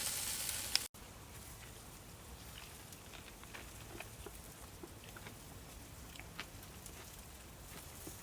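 Sausages sizzling on a Napoleon kettle grill, a faint, steady crackle with scattered pops and a single sharp knock near the start, heard alone with no talking.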